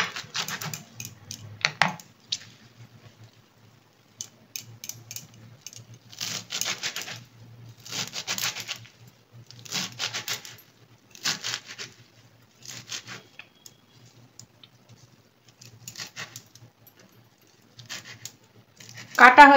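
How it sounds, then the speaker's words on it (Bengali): A knife finely chops fresh fenugreek leaves on a board, coming as bursts of rapid crisp taps broken by pauses, close and alone. "এরপরে আমি এগুলোকে কুচি কুচি করে কেটে নেব।"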